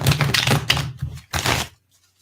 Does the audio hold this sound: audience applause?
no